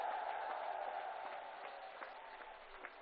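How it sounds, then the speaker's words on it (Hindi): Dense crowd applause at an outdoor public rally in Badaun, Uttar Pradesh, honouring scientists; steady loud clapping from many hands that fades slightly over three seconds, with no talk over it. "भाइयों बहनों, जोर से तालियां उन वैज्ञानिकों के नाम पर बजाइए।"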